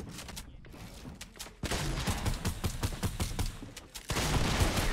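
Video game gunfire crackles in rapid bursts through a fast-paced duo squads match, loud and close, with several dense stretches of fire.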